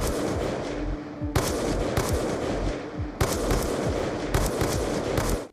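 Gunfire in Call of Duty: Black Ops 2, dense rapid automatic bursts with sharp crackling shots, loud and close, broken by brief pauses and renewed volleys.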